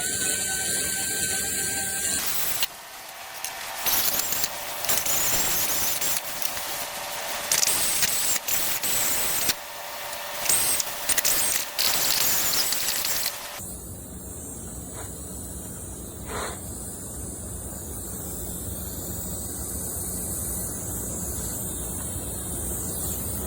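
A grinder works a steel plate for a trucker-themed mailbox sign, a loud harsh hiss that cuts in and out in bursts before giving way to a quieter, steadier whine, close up.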